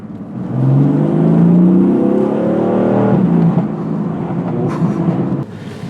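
A 560 hp BMW M4 engine revs hard from inside the car, a loud rising roar that holds, falls back and then rumbles more quietly before a short burst near the end.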